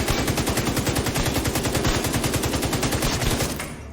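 Rifle fire in The Division 2 at a shooting range: a rapid, continuous automatic burst of loud, evenly spaced shots that cuts off near the end.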